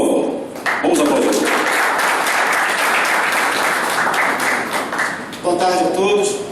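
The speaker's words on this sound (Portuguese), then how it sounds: "Vamos aplaudir." An audience applauds a municipal party director at a liberal political league's national meeting, a dense, steady clapping that carries for several seconds with brief voices and a cheer rising near the end.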